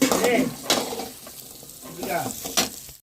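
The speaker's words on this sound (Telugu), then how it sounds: "ఈ విధంగా మొత్తం బాగా వేపుకుంటాయి" Dried fish frying in a pan, with a soft sizzle and occasional stirring scrapes close by for a few seconds. The sound cuts off abruptly at the end.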